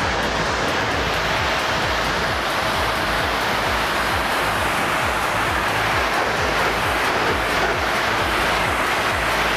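Water jet spraying the side of a car during a wash, as a loud, unbroken broadband hiss and rush of water striking the body panels.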